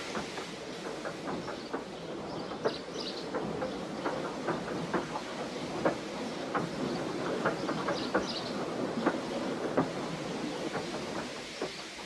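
A steam engine train slowly chugs onto a siding, with soft, evenly spaced puffs and clanks over a steady rolling hiss, fairly faint and without voices.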